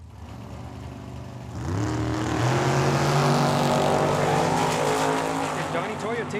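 A small roadster at Tucson Dragway launches on a drag strip run, engine note rising sharply after a brief idle and holding a loud, high-revving scream that climbs through gears as it pulls away.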